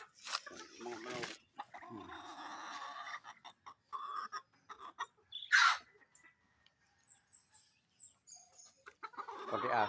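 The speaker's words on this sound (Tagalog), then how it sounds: "Mga manok." Chickens clucking on a small backyard farm, with intermittent clucks and calls at close range, alongside bursts of other bird sounds and brief voices in a quiet outdoor setting.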